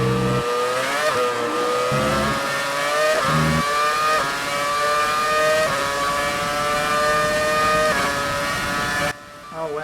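A 2009 Brawn GP Formula 1 car lapping in F1 2018 gives a loud, continuous high-pitched engine whine that climbs through gears, with brief dips at each upshift and a sudden lift near the end.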